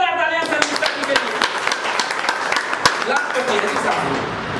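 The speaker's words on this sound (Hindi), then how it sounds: "एक बार जोरदार तालियां संगीता जी के लिए" Loud, dense applause from a crowd at a team leaders' meeting, many hands clapping steadily and close by for several seconds, with a voice speaking over the start.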